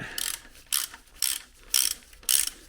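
A ratchet wrench clicks in five quick bursts as a bolt on the belt tensioner of a VW Golf Cabriolet is tightened. The clicks are close and crisp, with short pauses between strokes.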